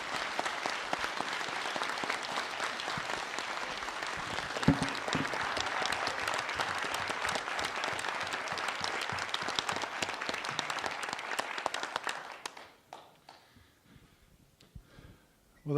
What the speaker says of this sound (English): If we could all maybe give her a huge round of applause for her service to Olds.